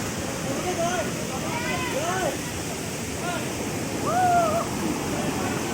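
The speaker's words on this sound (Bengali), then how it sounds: "দেখো ওয়াটার ফলসে চান করছি" A steady rushing roar of a waterfall beneath a hill near Kamakhya temple, where people bathe and swim among rocks; voices talk over the continuous water noise.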